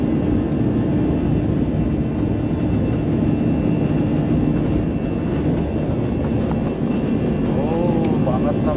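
Airplane speeding up for takeoff, a loud continuous engine roar heard from inside or nearby, steady throughout with a rising whine near the end.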